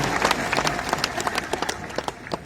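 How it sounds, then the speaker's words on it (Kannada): An audience at a Siddeshwara Swamiji speech claps steadily, a dense, continuous patter of many hands filling the space at close range. "ನೀವು ಚಪ್ಪಾಳೆ ಹಾಕಕತ್ತೀರ"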